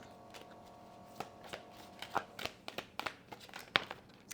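Tarot cards are drawn and laid down one by one, giving soft papery slaps and shuffling flicks at an irregular pace, quiet and close, with no voices.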